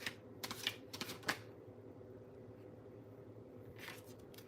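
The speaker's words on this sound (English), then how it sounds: "Let's shuffle these cards." Playing cards are shuffled at close range in quick, crisp riffling bursts at the start, then a pause of quiet background, then one more brief riffle near the end.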